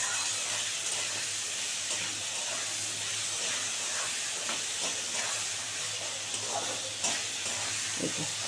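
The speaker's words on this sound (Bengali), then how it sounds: "এবারে এটাকে সুন্দর করে আমি লাল করে আলুটা ভাজবো" Potato pieces fry in a pan for an aloo posto dish, a steady sizzling hiss running throughout with a few faint stirring knocks.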